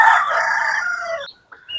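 A chicken gives a loud, drawn-out call up close, followed by a couple of short clucks.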